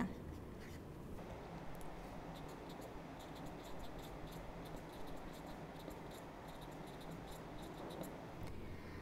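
Pen writing a complementary DNA strand on paper, a soft continuous scratching with light strokes, faint and close, with no talk.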